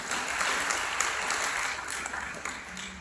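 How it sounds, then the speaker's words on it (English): An audience at a self-improvement talk gives a brief round of applause for a woman named Irene, a close, even burst of many hands clapping for about three seconds. "Can you please give Irene a round of applause?"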